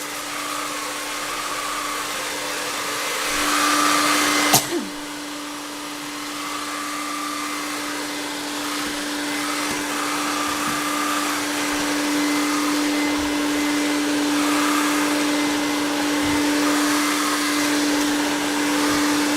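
An Evertop 3-in-1 cordless vacuum cleaner runs and sucks up debris from the floor with a loud, steady motor drone and a constant pitched whine. A sharp click near the start is followed by a brief dip before the drone resumes at full strength.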